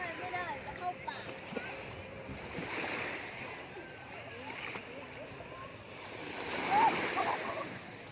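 Sea waves wash steadily onto the beach at Pattaya, a broad continuous surf rush that swells slightly toward the end, with faint voices in the background.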